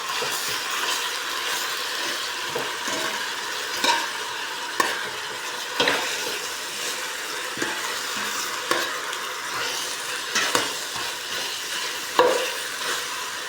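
Steady sizzling from a hot pot of chicken tinola with bottle gourd, a spoon stirring and scraping, occasional knocks against the sides, continuous and close.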